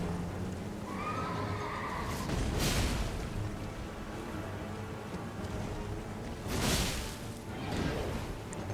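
A horse whinnies twice amid Elden Ring game sound effects, with swooshing bursts and a low rumbling background throughout.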